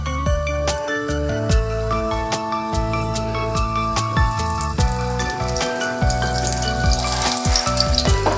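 A laccha paratha fries in oil on a hot tawa, giving a steady, close crackling sizzle throughout, with background music playing over it.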